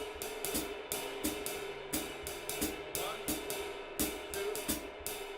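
A solo drum kit plays fast jazz time, a dense ride cymbal with clustered snare and tom accents recurring in short phrases, close and steady at moderate volume.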